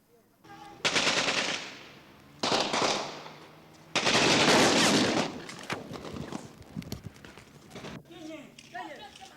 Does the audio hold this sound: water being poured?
no